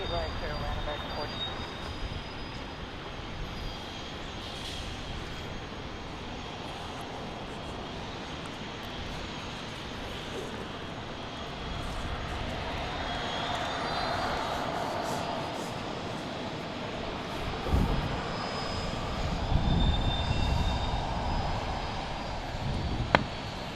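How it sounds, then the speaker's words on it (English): An American Airlines Airbus A321 arriving at Fort Lauderdale International Airport gives a broad, steady engine roar from a distance that builds slightly near the end, with people talking intermittently over it. "Next arrival will be American 1419 from Charlotte on an A321"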